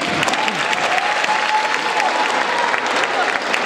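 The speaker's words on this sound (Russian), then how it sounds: "Еще аплодисменты, аплодисменты." Loud, sustained applause from the audience at a dance awards ceremony, with dense clapping throughout and faint voices mixed into the crowd noise.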